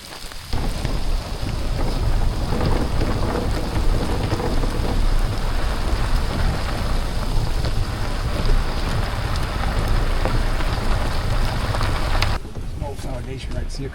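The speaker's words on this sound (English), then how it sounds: "It started raining." Heavy rain pours down outdoors on a farm in a steady, dense, loud roar with wind, continuing without a break for about twelve seconds before easing.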